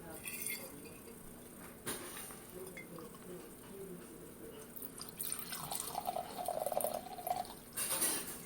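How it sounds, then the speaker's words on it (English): Drink poured into glasses for a toast, with liquid splashing and trickling plus light clinks of glass and tableware, moderately close and clear alongside handling noises. "so let's go and pour our toast"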